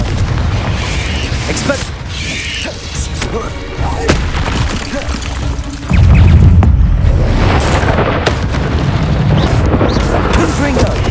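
Explosive magic bursts from the Confringo spell in Hogwarts Legacy, a series of loud booms and pops amid combat clutter, growing heavier in the second half, with a voice speaking over the action.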